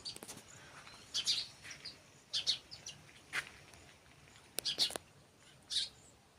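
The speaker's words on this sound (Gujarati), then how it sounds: "ચકલા ચકલીઓનો પક્ષીઓનો કલબલાટ એ તો અમારે બહુ જ છે" Scattered high bird chirps and tweets, a few short calls spaced irregularly against a quiet outdoor background.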